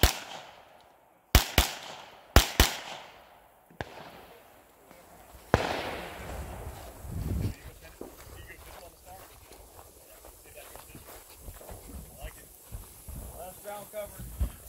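Sharp gunshot bursts ring out at an outdoor 3-gun shooting competition, a few loud cracks early on followed by scattered shots and rustling, with talk running through much of it.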